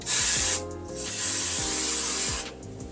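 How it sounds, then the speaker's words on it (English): Two bursts of aerosol spray hiss loudly, a short blast followed by a longer sustained spray, close up with faint clicking beneath. "shaking this can up, spraying it on some paper"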